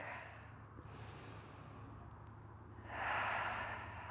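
A slow, audible exhale during a beginner yoga flow, soft breath noise swelling near the end of a quiet stretch over a low steady hum, with no talking.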